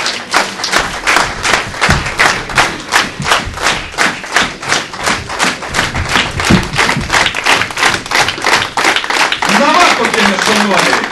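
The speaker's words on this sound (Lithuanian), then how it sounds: "Visi atsistojam, tai yra mūsų nugalėtas. Ir plojam į tą patį ritmą, plojam." A conference audience claps together in a steady unison rhythm, loud and sustained sharp beats, with a speaker's voice over the clapping.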